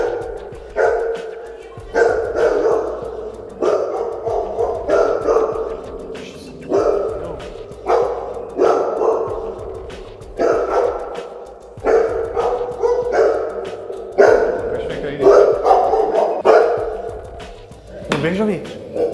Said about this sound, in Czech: ti psi jsou na chodbě a už je to delší dobu